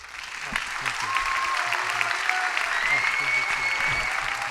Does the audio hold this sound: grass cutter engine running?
no